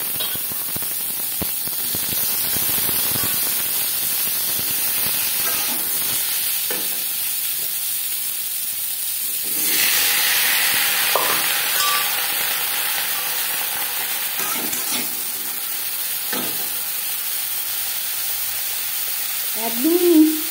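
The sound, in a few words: frying raw mango pieces with chili and panch phoron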